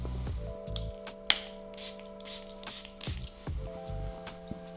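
A Rayhaan Elixir perfume atomizer fires several short, sharp hissing sprays in quick succession, close up, over a quiet backdrop of sustained musical tones.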